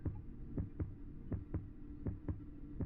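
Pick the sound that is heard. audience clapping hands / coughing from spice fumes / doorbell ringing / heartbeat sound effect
heartbeat sound effect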